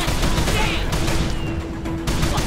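Dense, loud gunfire in Call of Juarez The Cartel, a sustained crackle of overlapping shots with no clear gaps, blending into a noisy game mix with shouting.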